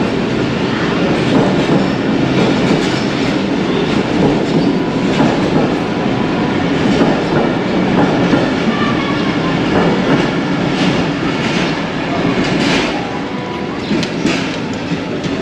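The Khyber Mail train rushes past on the adjacent track in Sindh, Pakistan, a loud, continuous, close roar of wheels with steady clickety-clack rhythm and occasional metallic squeals throughout.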